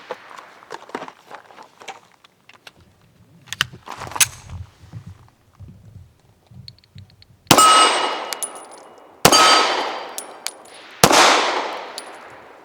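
Three loud, sharp pistol shots from a Kahr S9 firing Federal HST 147 grain 9mm rounds at an outdoor range, spaced a couple of seconds apart with ringing decay, after quieter handling and footstep noises.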